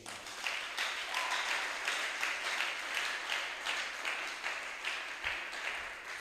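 A church congregation applauds at a deliverance service, steady crowd clapping that holds for several seconds at moderate loudness with no clear voice on top.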